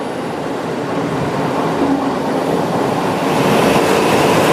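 Tokyo Metro Tozai line subway train running underground, a steady loud rumble and rattle of wheels on rail that holds for several seconds before cutting off abruptly.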